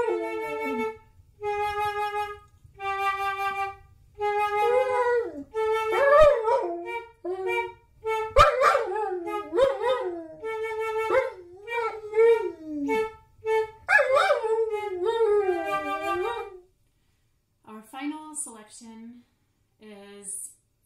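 A dog howls and yips along with a solo flute during a home concert warm-up, its wavering cries weaving in and out of the melodic lines for most of the passage, close and fairly loud, before a brief pause and a few more notes.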